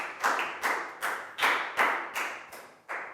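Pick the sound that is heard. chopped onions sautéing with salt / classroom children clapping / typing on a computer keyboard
classroom children clapping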